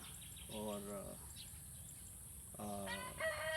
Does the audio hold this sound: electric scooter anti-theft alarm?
no